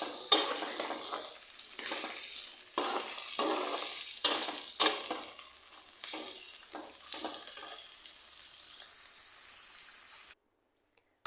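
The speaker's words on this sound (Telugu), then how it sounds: "ఇలానే మిక్స్ చేస్తూ ఫైవ్ మినిట్స్ ఆయిల్లో ఫ్రై చేసేసుకోవాలండి" Bitter gourd stirred and fried in oil gives a loud, continuous sizzle broken by repeated scraping stirs, with no talk, before it stops abruptly.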